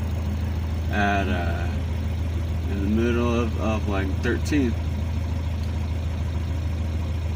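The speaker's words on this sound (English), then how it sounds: "That's where it's idling, and it's pretty much staying" A 1987 Mazda B2000 pickup engine with a Weber DGV carburetor idles with a steady, low, even rumble throughout. Someone talks briefly over the running engine.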